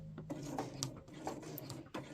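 Sewing machine stitching along the seam of a Chester beach bag, with a run of quick, close mechanical taps and clicks, fairly quiet and heard on its own.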